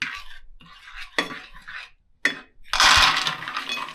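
A spoon stirs almonds roasting in ghee in a pan, making short bursts of metallic scraping and clinking separated by brief pauses, then ending in a louder, sustained scrape.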